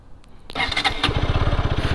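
A Bajaj Pulsar RS200 motorcycle, a 2025 model, cranks and catches with a sharp burst, then settles into a loud, steady, close-up pulsing idle.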